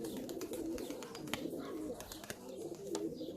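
A female blue pigeon coos softly and repeatedly at close range, its low murmuring calls layered with occasional sharp clicks and faint flutters from the loft around it.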